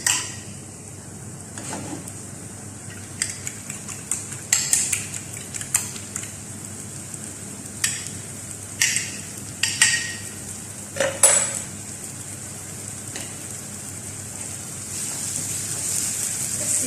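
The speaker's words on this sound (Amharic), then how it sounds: "ለመስራት ስክራምብል እንቁላል ወይ እንቁላል ፍርፍር ለመስራት ሹካ በእንደዚህ መምታት ጥሩ ነው" Eggs beaten with a fork in a bowl for scrambled eggs, a series of quick light clinking taps in uneven bursts, fairly close, over a quiet steady background with no speech.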